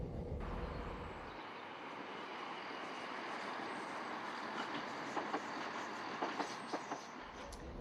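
Steady rumble and rattle inside a passenger train travelling from Seaford to Brighton, a continuous broadband ride noise with a few clicks and knocks from the carriage toward the end, no one speaking.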